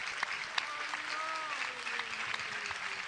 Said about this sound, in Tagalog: pwede ba natin bigyan ng isang palakpak ang ating kagalang-galang na mahal na pastor?